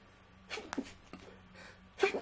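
A single short sneeze, fairly faint, comes from a commentator on a live NFL Draft analysis broadcast, preceded by small breathy noises and followed by another burst near the end.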